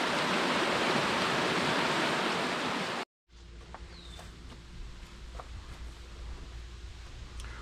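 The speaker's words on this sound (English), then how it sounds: "enjoy this scenery and this surrounding of the sound of this creek" A creek along the Bruce Trail flows in a steady, loud rushing hiss, then cuts out and gives way to a quieter outdoor scene with a softer stream murmur and a few bird chirps.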